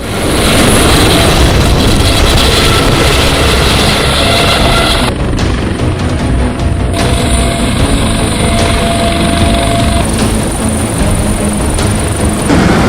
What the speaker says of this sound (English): A helicopter has been signaled to come pick them up.